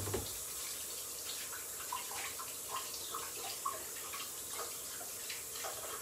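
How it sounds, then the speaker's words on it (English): Running tap water pours steadily as hands are rinsed in a kitchen while falafel is being made, a constant hiss with small splashes and drips throughout, no talking. "I'm gonna rinse my hands off."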